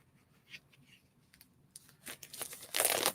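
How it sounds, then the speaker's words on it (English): Plastic shrink wrap is torn and peeled off a vinyl record, faint crinkles at first, then louder close tearing and crumpling toward the end. "Yeah, I'm unwrapping it because that's what you do with records"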